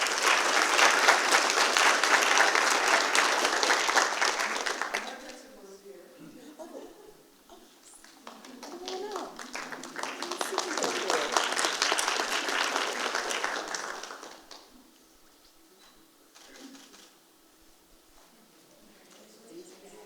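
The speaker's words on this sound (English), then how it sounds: "another huge round of applause." Two bursts of crowd applause ring out at a school district board of trustees meeting honoring staff, the first lasting about five seconds, then a quieter gap before a second loud wave, followed by softer scattered sounds.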